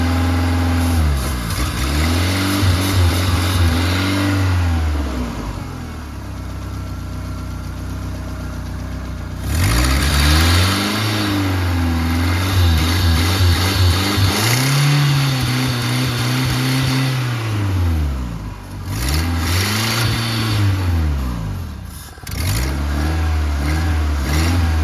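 A Ford engine, just cleaned at the throttle body, runs steadily with a deep, close hum and rises and settles in repeated revs over about twenty-five seconds, with no talking.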